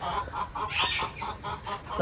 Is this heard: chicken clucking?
yes